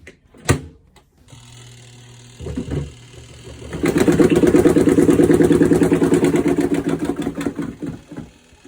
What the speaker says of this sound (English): the clothes fly out of the little basket, and then they start making all that noise